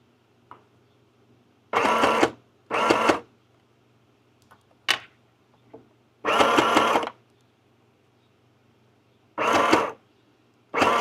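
Sewing machine stitching a simple curtain at home, running in several loud whirring bursts of about one to two seconds each with quiet pauses and small clicks between.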